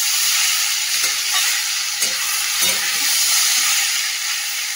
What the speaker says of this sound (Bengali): তেল তো গরম হয়ে গেছে, আর আলুটা তো আমি জল ঝরাতে দিয়ে রেখেছিলাম, এই যে তেলের মধ্যে দিয়ে দিলাম।